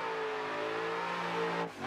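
A car engine from the ACD 2022 pack in Assetto Corsa holds a steady, droning tone while driving, then dips briefly near the end as the revs change, heard alone without talk.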